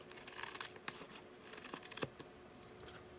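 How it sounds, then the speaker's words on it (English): Scissors snip and trim paper overhang from the back of a page in a scrapbook craft project, quiet close crisp cuts and light paper rustling in a few separate strokes. "I can just cut it from the reverse anywhere where it's overhanging the page"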